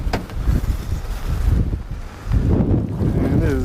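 Gusty wind buffets the microphone outdoors on open water near a boat, loud rumbling bursts that rise and fall in waves across the whole stretch.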